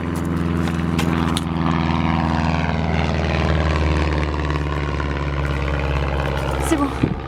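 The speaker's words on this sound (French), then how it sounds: "Attention, l'avion revient." A propeller airplane in a French cartoon drones loudly past, its engine hum steady and close for several seconds before easing off slightly near the end.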